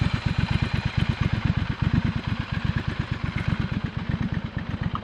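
A Triumph Scrambler 1200 XC motorcycle engine idles close by, its low exhaust thumping in a rapid, steady rhythm with a slight lope throughout.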